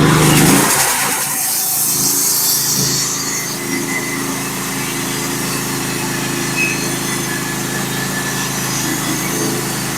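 A Norwood HD36v2 sawmill runs a Turbo 7 blade through a hard, dirty old black oak log, its engine roaring steadily with a continuous high cutting whine that stays loud and close throughout.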